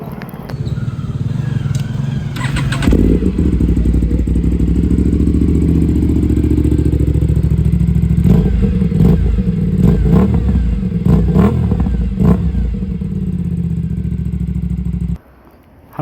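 An Aprilia RS457 motorcycle with a custom header and bend pipe runs close by with a deep, loud exhaust rumble, revving in rough bursts over a steady idle before cutting out abruptly.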